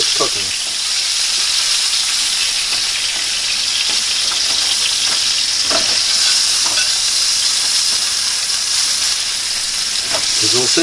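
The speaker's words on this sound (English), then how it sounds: "Sizzle, sizzle, sizzle." Bacon sizzles and crackles steadily in a hot frying pan, a dense continuous hiss with scattered pops, close and loud throughout with no talk.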